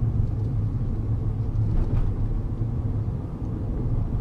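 A car cruises along a public road in fourth gear at moderate speed, producing a continuous low engine and road rumble that stays steady and close throughout, with no talk over it.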